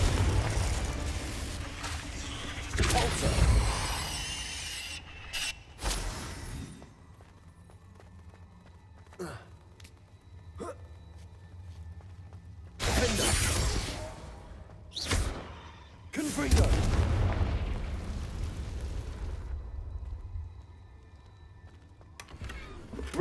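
Confringo fire-spell explosions in the wizarding game Hogwarts Legacy burst out as several loud, separate blasts between quieter stretches of movement and ambience, with hoof-like thudding in places.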